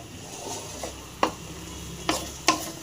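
Boiled green peas for sundal being tossed with masala in a pan, a spoon scraping softly and giving a few sharp clinks against the rim over a low sizzle, with no talking.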